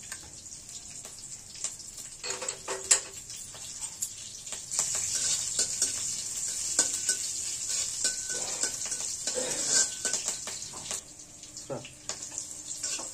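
Chopped chillies and curry leaves frying as a tempering with cumin seeds for sabudana khichuri, a bright hissing sizzle with intermittent stirring knocks and scrapes, close and moderate in level.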